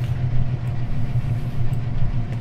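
A car-like engine running in the video game Obduction gives a steady low idling rumble, continuous and fairly loud throughout with no talk over it.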